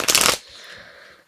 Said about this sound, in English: now I'll shuffle